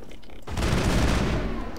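Rapid-firing weapon shooting in Mass Effect, a dense, continuous burst of gunfire that starts abruptly after a brief quieter moment and stays loud to the end.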